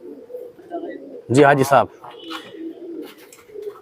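Pigeons coo in low, soft murmurs throughout, close by, while someone speaks briefly in the middle over the birds.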